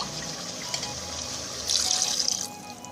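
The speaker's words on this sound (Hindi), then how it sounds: "अब मैं इसमें पानी ऐड करूँगी" Water pours steadily into a metal pressure cooker holding mutton, a soft rushing splash that grows a little louder midway before easing off.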